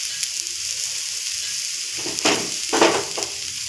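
Onions sizzling in a hot pan with salt being stirred in, a steady soft fry broken by two or three brief scraping stirs toward the end, close and alone.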